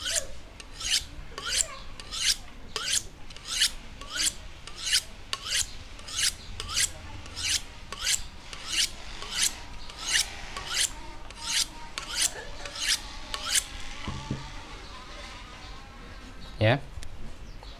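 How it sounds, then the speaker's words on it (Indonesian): A knife blade is honed on a sharpening stone in rhythmic strokes, about twenty evenly spaced rasping scrapes, close and clear, followed by a brief knock near the end. "Dan e, setelah itu kita haluskan dengan sharpening janfeng."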